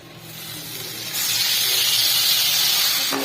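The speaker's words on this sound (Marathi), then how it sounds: "ह्याच्यामध्ये अद्रक लसूणची पेस्ट, करून घेतला होता तो टाकायचा." Ginger-garlic paste hits hot oil in a pan for pav bhaji and erupts into a loud, steady hiss and sizzle that lasts to the end, with a faint knock near the close.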